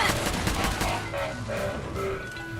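Gunfire in the Fallout 4 video game against robots: rapid bursts of shots and impacts crackle in a dense, continuous volley, loud and close.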